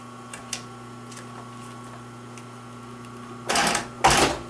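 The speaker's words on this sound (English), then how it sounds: "I'm going to top stitch this." A sewing machine top stitches a Croc bag, with two short bursts of fast mechanical stitching near the end of the clip after several seconds of quiet motor hum and faint clicks.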